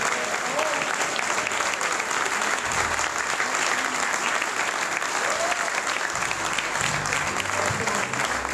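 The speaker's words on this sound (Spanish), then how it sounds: "recibí este aplauso. Como si fuera un abrazo." Sustained audience applause at an outdoor blues festival tribute, dense and steady throughout with faint crowd voices underneath.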